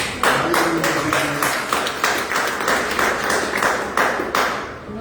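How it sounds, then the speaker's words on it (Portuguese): A church congregation claps together during a Sunday evening worship service, a dense, steady run of hand claps filling the room, loud and alone without talk. "Vamos glorificar o Senhor Deus esta noite com uma salva de palmas"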